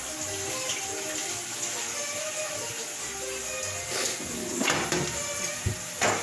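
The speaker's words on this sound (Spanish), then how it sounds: "Déjame botarle un poquito más de agua." Water poured into a pan of frying salami with egg on a home stove, a short splashing, sizzling gush midway through amid light kitchen clatter.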